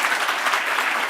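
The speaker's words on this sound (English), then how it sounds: "please offer a thunderous round of applause to my friend, the Administrator of USAID" An audience at a civil society forum of the U.S.-Africa Leaders Summit claps in steady, dense applause that fills the room without a break.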